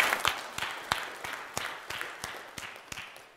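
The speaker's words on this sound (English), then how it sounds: "How about a round of applause for that?" Sparse applause from a small church congregation, individual claps spaced out and fairly quiet, fading gently over a few seconds.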